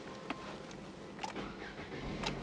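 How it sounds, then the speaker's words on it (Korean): A used Samsung SM5 New Impression sedan with 89,000 km, started with a card key, cranks and catches on the first try, then settles into a quiet, low idle heard from inside the cabin. "시동 한 번에 직발로 잘 걸리고 있고요."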